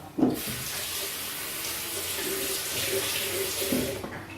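Tap water pours steadily into a kitchen sink while a green pepper is washed, a close continuous rushing with a brief knock at the start and slight changes in the flow.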